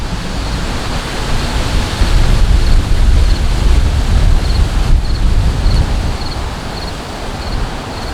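Steady wind gusting across an outdoor campsite on an abandoned urban golf course, a broad continuous rush that swells in the middle and eases toward the end, loud and close with buffeting against the microphone.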